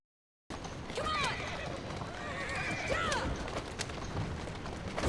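Horse whinnies twice over steady galloping hoofbeats in the video game Assassin's Creed Syndicate, the neighs rising and falling clearly above a continuous rumbling background.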